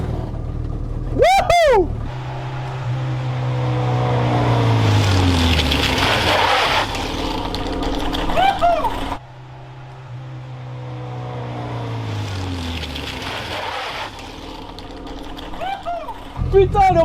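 A Renault 4L prototype car accelerates hard with a rising engine drone, then brakes, and the pattern repeats. A person whoops excitedly over the first pass.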